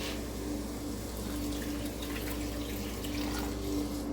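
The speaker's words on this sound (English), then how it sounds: "And then I'm going to add about 3 cups of water." Water streams steadily into a pot of Creole jambalaya, a continuous close pour with a rushing, liquid wash and no talk.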